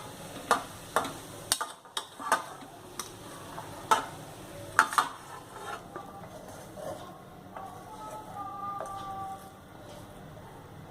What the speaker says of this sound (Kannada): ಈಗ ನಾವು ಒಂದ್ಸಲ ಗ್ಯಾಸನ್ನ ಆಫ್ ಮಾಡಿ ಇದಕ್ಕೆ ಅನ್ನ ಹಾಕಿ ಸರಿಯಾಗಿ ಕಲಿಸ್ಕೋಬೇಕು.